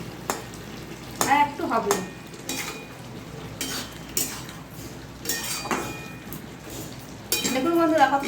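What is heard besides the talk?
stirring mixed vegetables in a pan with a spatula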